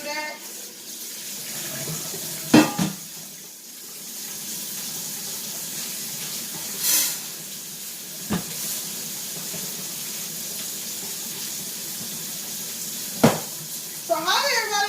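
Water runs from a kitchen faucet into a cooking pot, a steady soft stream lasting throughout, with occasional clanks of the pot and brief spoken remarks.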